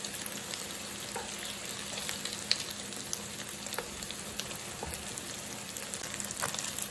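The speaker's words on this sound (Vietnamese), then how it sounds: "Khi chúng ta chiên thì nó phồng lên như vậy" Vegetarian wheat gluten fries with garlic in a pan, giving a steady, quiet sizzle with scattered crackles and pops throughout.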